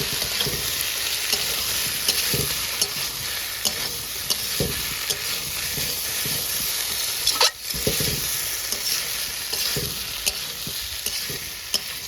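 Vegetables and fried prawns sizzle steadily in a hot pan while a utensil stirs and scrapes with repeated clinks and knocks, close and continuous.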